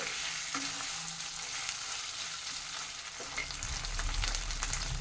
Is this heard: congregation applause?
no